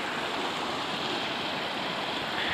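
Floodwater rushes through a village after a flash flood, a steady, loud broadband roar of flowing water close by, unbroken for the whole stretch with no voices.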